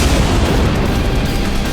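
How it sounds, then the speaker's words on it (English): Reverberant gunshot sound effects with a dense, booming wash of noise, loud and sustained so the shots blur into one long echoing rumble. "Need a little reverb on those gunshots, Sam?"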